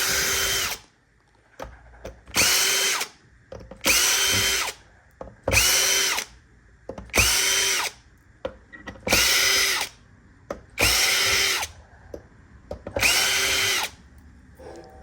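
A power screwdriver removes screws from an Xbox Series S in seven short whirring bursts at a regular pace, close and clear, with faint clicks and handling between them.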